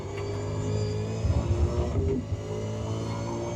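A V8 Supercar in the iRacing sim at Brands Hatch accelerates hard, its engine roaring steadily with a brief rise in revs mid-way, loud and close throughout with no talk.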